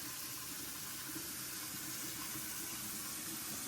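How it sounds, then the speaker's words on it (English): Hot water pours steadily from a sink faucet turned all the way to hot, giving a constant, close, even hiss and splash that neither pauses nor varies, with no voices. "Now we just gotta run the water, heat it up, put it all the way on hot."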